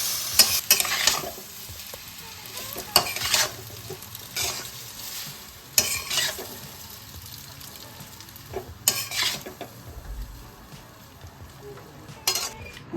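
Spaghetti chicken stir fry is stirred in a sizzling pan, with repeated scraping strokes and clatter against the pan over a constant frying hiss, fairly close.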